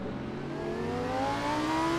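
A Lamborghini GT3 race car in the Assetto Corsa racing game accelerates, its engine note climbing steadily in pitch as a smooth, fairly loud whine with no talk.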